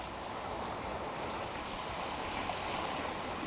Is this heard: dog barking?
no